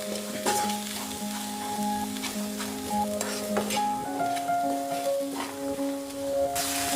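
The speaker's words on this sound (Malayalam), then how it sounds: "നന്നായിട്ട് ഇതൊന്ന് മിക്സ് ചെയ്ത് കൊടുക്കാം." Onions salted and frying in a pan for butter chicken give a steady close sizzle, while a spoon stirs and scrapes against the pan in repeated strokes; no voices are heard.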